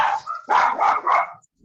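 Several dogs bark in quick succession, loud and close, with a run of three or four overlapping barks and a faint growl, no talking.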